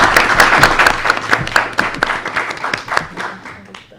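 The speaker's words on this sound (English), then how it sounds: "Give you a round of applause." Loud audience applause at a university conference, thanking the organizers: close, dense clapping from many hands that gradually thins and tapers off.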